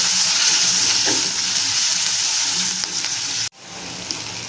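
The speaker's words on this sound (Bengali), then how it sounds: "হালকা বাদামি কালার আসা পর্যন্ত ভেজে নিচ্ছি।" Chopped onions frying in oil in a frying pan until light brown, for a poa fish curry: a loud, close, steady sizzle that cuts out sharply near the end, then resumes softer.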